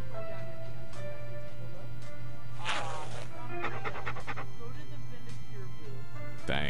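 Dogs pant rapidly and repeatedly in the Postal 2 video game, close and fairly loud, with a low steady music hum underneath and bits of game voices mixed in.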